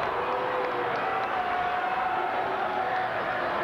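Home crowd at a 1998 high school boys basketball game in Moline, Illinois, reacting with a sustained murmur and groan of disapproval that fills the gym evenly at moderate volume.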